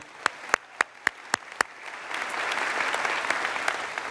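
At a 2014 high school graduation, several sharp, evenly spaced claps ring out alone before a broader wash of audience applause swells and continues at moderate volume.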